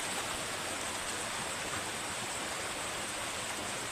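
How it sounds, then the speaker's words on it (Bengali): Rain falls steadily outdoors as a dense, even hiss that holds at one level from start to finish, with no voices or other distinct sounds. "বাইরে দেখুন বৃষ্টি শুরু হয়ে গেছে বৃষ্টির আওয়াজটা নিশ্চয়ই আপনারা শুনতে পাচ্ছেন"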